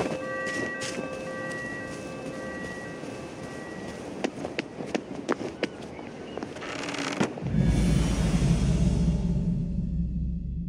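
At a train station in the video game We Happy Few, sharp metallic clanks and bangs ring out over tonal hums, then a heavy low rumble of a train swells in and continues loudly.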